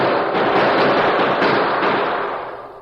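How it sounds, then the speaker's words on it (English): Roaring gunfire in a radio drama, a loud dense burst of rapid shots that blur together into a continuous crackling barrage and then begin to fade. "The black silence seemed to deepen, until packed like powder, it exploded into roaring gunfire."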